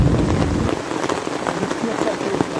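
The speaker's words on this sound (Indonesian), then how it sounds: "indahnya perjalanan gunung disertai hujan seperti ini" Heavy rain falls steadily during a mountain camping trip, a dense, even hiss of drops drumming on surfaces that stays close and loud throughout without a break.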